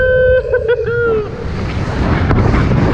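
Strong wind blasts across the microphone high up on the world's tallest swing ride in an amusement park, a loud continuous roar beneath a brief tonal whistle near the start.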